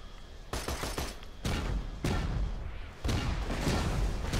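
Gunfire in Borderlands 2, heard as several loud bursts of shots arriving at roughly one-second intervals, each cutting in sharply over a steady background of game noise, with no talking.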